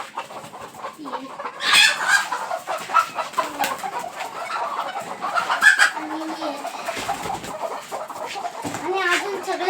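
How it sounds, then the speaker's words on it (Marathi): Backyard village chickens and a rooster cluck and chatter in irregular bursts, some calls close and sharp, with people talking intermittently among the birds. "हे बघा माझ्या कोंबड्या"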